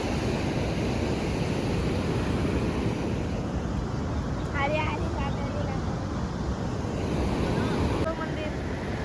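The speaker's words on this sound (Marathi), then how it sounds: "आणि लाटा बघा" Ocean waves wash continuously onto the beach at Ganpatipule, a loud broadband roar with wind buffeting the microphone and a person talking briefly over it.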